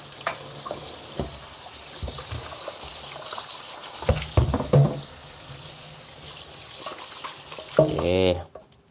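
Running water splashes against a metal wok with scraping and clanking, steady throughout, ending with a brief clatter and a sharp rattle.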